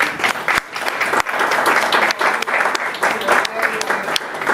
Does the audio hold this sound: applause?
yes